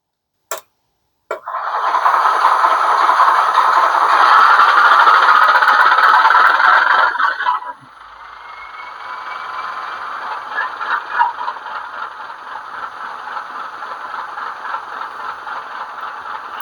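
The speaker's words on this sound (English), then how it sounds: "We press on and we shall hear the cold start of the Class 30." A couple of sharp clicks, then the diesel engine sound of a Class 30 model locomotive cold-starts with a loud buzzing roar before settling into a quieter, steady rattling idle.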